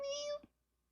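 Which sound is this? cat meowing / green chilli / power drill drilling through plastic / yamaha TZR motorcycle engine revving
cat meowing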